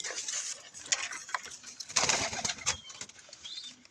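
Pigeon cooing in a small home loft setting, a few soft coos and bird rustles scattered over a low background hum, fairly close but quiet.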